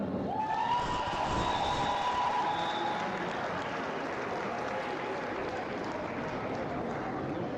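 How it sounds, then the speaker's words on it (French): Crowd applause and cheering for the officials at a roller derby match, Brest versus Les Murennes, a steady, dense wash of clapping and shouts filling the hall throughout, loudest at the start. "on peut en profiter pour applaudir les officiels"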